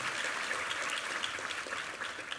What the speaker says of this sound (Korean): 우리 남성 중창팀 한번 수고와 감사의 박수 한번 드리겠습니다